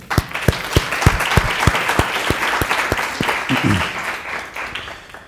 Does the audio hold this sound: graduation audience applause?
yes